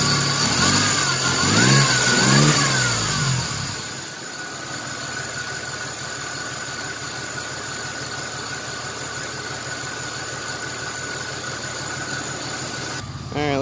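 A 1994 Chevrolet S10 Blazer's 4.3 CPI V6 runs steadily nearby after sitting unused for three years. A revving swell at the start settles into an even, rough idle that continues throughout, with no voices.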